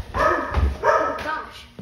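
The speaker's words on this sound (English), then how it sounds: "Is there a dog up here?" A dog barks twice in quick succession, loud and close, with deep, full woofs and a short trailing yip.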